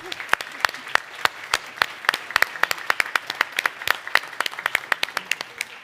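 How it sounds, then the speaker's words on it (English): An audience at an annual assembly panel applauds the panelists. Dense, steady clapping from many hands fills the room without a break, close and lively throughout. "a big wave of applause for our panelists"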